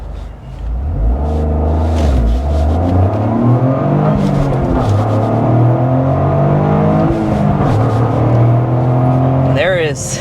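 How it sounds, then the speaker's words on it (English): A 2024 Toyota GR Corolla Core accelerates hard, its engine rumbling loud and close from inside the cabin and rising steadily in pitch through several gear changes. "time to start off with a hard acceleration"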